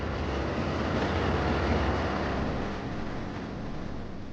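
Broad, steady rumble of the Reunification Express on Vietnam's narrow-gauge track as it sets off in the afternoon, a continuous loud roar of wheels and carriage noise with no voices.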